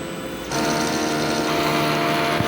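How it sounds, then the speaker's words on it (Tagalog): An inkjet printer runs a head-cleaning cycle, starting with a sudden mechanical whir that settles into a steady, loud buzzing drone close by, with a small knock near the end. "Ganito po ang tamang mag-head clean."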